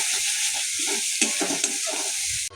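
Onion, garlic, ginger and chili paste sizzle and fry in hot tempered oil with whole cumin and crushed garam masala, a steady loud hiss broken by stirring scrapes, ending with a sharp clatter.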